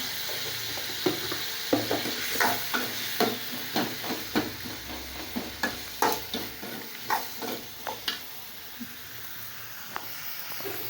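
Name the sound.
sautéing tomato chutney with chili powder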